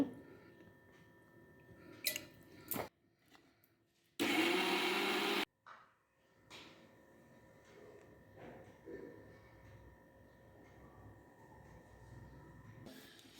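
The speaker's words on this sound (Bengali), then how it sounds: "এই যে বিউলির ডাল ভিজিয়ে রেখেছিলাম, পিষে নেবো মিক্সচার মেশিনে।" A mixer grinder whirs loudly for about a second while grinding soaked biuli (urad) lentils with water, a short burst of blending amid quiet kitchen handling noises and clatter.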